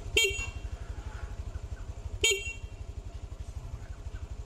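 Two short motorcycle horn beeps, about two seconds apart, sound over a steady rhythmic idling engine close by; the horn is also used as a passing signal.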